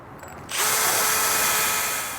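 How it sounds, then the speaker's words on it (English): A drill bores through a broken exhaust stud on a Vespa GTV using a 1/8 inch bit, starting after a short quiet moment and then whining loudly and steadily up close, with the tone rising slightly and holding to the end. "we drilled it all the way through with an 1/8 inch drill bit"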